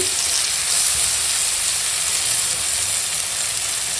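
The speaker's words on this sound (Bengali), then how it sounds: "শুকনো লঙ্কা আর সর্ষের ফোড়ন সর্ষেটা এখন একটু চটকাচ্ছে" Mustard seeds and dry red chillies crackle and sizzle in hot oil in a kadai, a steady close hiss with faint popping throughout and no talk.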